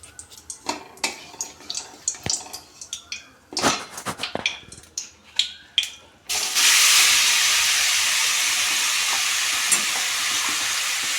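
Carrots hit hot ghee in a kadai with a sudden loud, steady sizzle that settles into continuous frying hiss, preceded by a run of sharp clattering knocks and scrapes.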